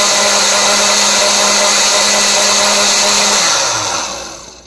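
A blender whirs loudly and steadily through a cinnamon, orange blossom honey, banana and almond milk smoothie, its motor tone dropping and fading as it shuts off near the end.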